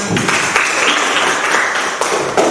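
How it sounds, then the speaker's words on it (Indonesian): A classroom of students clapping after a group presentation, with a dense, fairly loud patter of hands that holds steady for a couple of seconds. "Ya, tepuk tangan"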